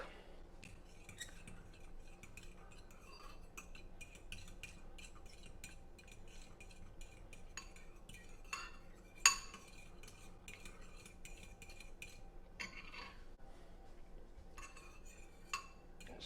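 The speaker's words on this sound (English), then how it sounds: "Then we get our bread and we will whisk." Plant-based Just Egg whisked in a bowl for French toast, with quiet, irregular metallic clinks and scrapes of utensil against dish, plus a few sharper taps now and then.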